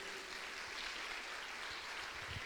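Church congregation clapping steadily, a dense continuous patter of many hands at moderate distance, with no voices over it.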